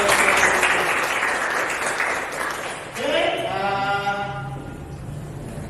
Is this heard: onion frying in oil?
no